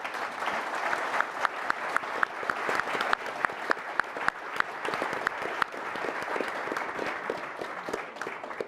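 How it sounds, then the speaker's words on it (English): A conference audience applauds a panel steadily, with dense overlapping claps, some sharp and close, sustained for several seconds without talking. "could I please get a round of applause for our panelists?"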